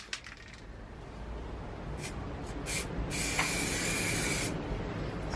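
An aerosol can sprays gloss white paint in light coats over an engine bay, giving short hissing bursts and then a longer steady spray over a faint background rumble.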